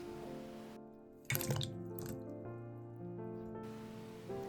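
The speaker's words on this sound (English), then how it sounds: "I transfer them to the salt water." Cut salmon pieces go into a bowl of salt water, making a sudden wet splash and a few soft drips and clinks, then a quiet liquid settling in a hushed kitchen.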